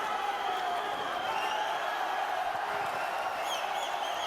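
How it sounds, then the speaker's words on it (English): Boxing arena crowd at the Firat Arslan vs Aleksandr Alekseyev fight in Germany, a dense distant roar of cheering and whooping that holds steady throughout, with a few shouts rising above it. "Just listen to that crowd, Steve."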